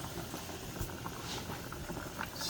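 A pot of spaghetti water boils on a stove with the heat turned down, giving a steady, dense bubbling patter close by with no voices.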